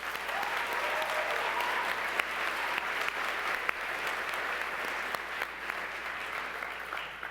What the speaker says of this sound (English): let's give the JOC Slack organizers a round of applause